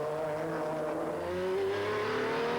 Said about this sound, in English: The Carsport Holland Viper still behind a Ferrari here, but now you see the difference as Voss was